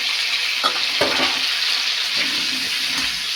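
Salted potato pieces for chicken biryani fry in hot oil with a loud, steady hiss, broken by a few brief stirring clatters near the start.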